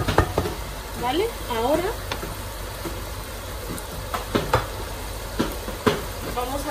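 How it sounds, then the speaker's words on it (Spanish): Chicken sears in a hot pan with a dense, close sizzle and the repeated scrape of a utensil stirring it, while a person speaks briefly over the cooking noise. "Lo que vamos a hacer es solo sellar el pollo"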